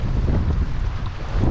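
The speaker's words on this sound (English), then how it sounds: "it has got absolutely windy. It is stupid windy." Strong wind blasting across an exposed coastal spot at Bottle Bay in Shark Bay, Western Australia, a steady loud roar buffeting the microphone throughout with no letup.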